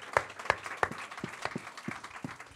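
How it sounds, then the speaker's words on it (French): A small congregation at a Feu Sacré church gathering applauds themselves and the team, with sparse, distinct claps in an uneven rhythm, fairly quiet and close, rather than a full ovation. "Vous pouvez vous applaudir et applaudir l'équipe également"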